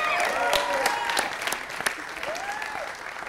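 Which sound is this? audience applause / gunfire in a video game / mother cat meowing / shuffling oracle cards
audience applause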